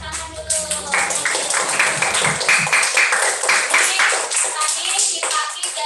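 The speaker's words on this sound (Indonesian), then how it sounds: "Ya, kita kasih tepuk tangan dulu." Children in a classroom clap together in a brisk, close round of applause lasting several seconds, with some voices mixed in.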